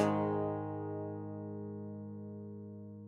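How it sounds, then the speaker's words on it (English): A clean electric guitar chord, played without compression, rings on its own, already sounding and slowly fading as it is held for a few seconds. "This is how long I can hold that chord without compression."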